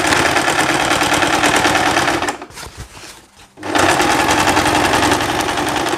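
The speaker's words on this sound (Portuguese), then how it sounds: "a gente vai passar um pesponto aqui" Domestic sewing machine running fast and loud while topstitching a seam on a skirt or overall dress, with a short slowdown and pause midway before it resumes at full speed.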